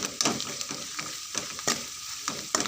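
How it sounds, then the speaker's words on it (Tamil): Masala for a sardine fish curry being stirred and sautéed in a pan, a close, continuous sizzle broken by repeated scraping strokes of a spoon at an uneven rhythm, with no one talking. "இந்த மாதிரி நல்லா வதக்கிக்கோங்க"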